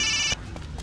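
A telephone rings with a bright electronic tone for a moment, then cuts off, leaving quiet room noise.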